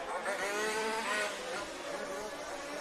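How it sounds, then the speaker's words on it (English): Large-scale off-road short-course RC race cars scream at full throttle down a main straight at a European championship in Brittany, France, a steady high-pitched engine whine with shifting pitch, continuous and fairly loud. "full throttle down that main straight now."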